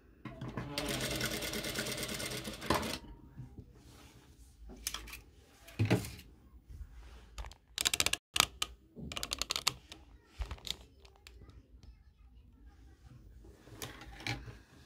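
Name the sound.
sewing machine stitching a facing along the neckline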